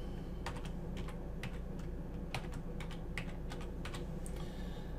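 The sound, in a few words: typing a password on a computer keyboard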